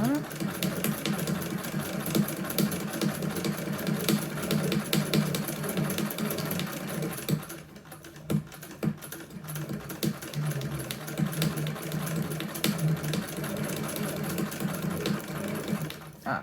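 A hand-crank sewing machine stitches through three layers of fabric, its rapid steady needle chatter running continuously and close, with a brief slowdown midway, while a person talks over it.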